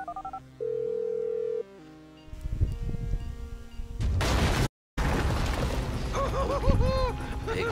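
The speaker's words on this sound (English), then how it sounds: "Big explosion." A phone is dialed in Grand Theft Auto 5, with a run of keypad tones and a ring, followed by a loud, booming explosion and a burst of crackling debris and ringing after a sudden cut. No voices are heard.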